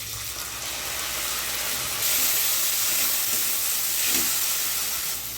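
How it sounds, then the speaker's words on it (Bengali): Spice paste with ground cashew and poppy seed frying in a pan, a loud, continuous sizzling hiss that swells stronger partway through as the paste is stirred. "ভালো করে মশলাটা কষিয়ে নিই। দিয়ে দেবো কাজু, পোস্ত বাটাটা,"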